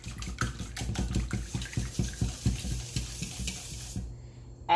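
Whisk beating crepe batter in a bowl, a rapid series of rhythmic wet clicks and sloshes repeating steadily for about four seconds, close and fairly loud, then stopping abruptly.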